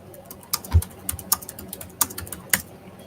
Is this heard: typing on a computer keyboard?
yes